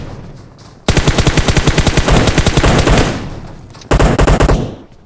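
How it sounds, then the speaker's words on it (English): Automatic gunfire in the video game PUBG rattles in a loud, rapid, evenly spaced burst lasting about two seconds, then a second short burst follows after a pause. "Throw a couple of shots at them, somebody will like it."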